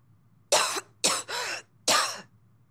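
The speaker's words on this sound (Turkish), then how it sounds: "Önce öksürürsün." A person coughs four times close by in two quick pairs, the bursts harsh and throaty with short silent gaps.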